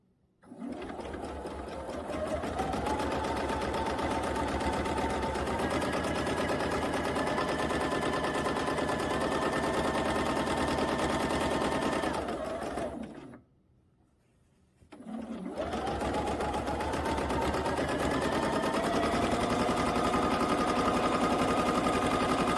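A sewing machine runs at a steady, fast, loud whir during free motion quilting on a cookie-pattern quilt, stopping for about two seconds midway and then starting again without any talking.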